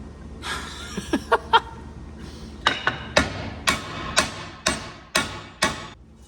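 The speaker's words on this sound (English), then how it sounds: "But you take wood and a hammer" Sharp hammer blows split wood into small pieces for a mini rocket stove, starting with a few quick taps, then a steady series of louder cracks, each ringing briefly, close up.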